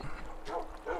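Dogs in an Adventure Time video game give a couple of quick yipping barks and whimpers, two short bursts close together.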